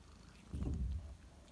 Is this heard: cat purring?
yes